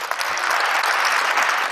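Audience at a corporate announcement applauds in a brief, steady burst of dense clapping, close and fairly loud.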